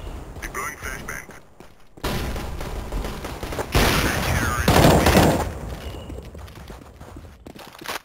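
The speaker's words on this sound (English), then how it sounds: "Deploying flashbang." A flashbang and gunfire in a competitive Counter-Strike: Global Offensive match on Dust, with loud bursts, a sudden blast and sustained crackling shots, mixed with talk over the game.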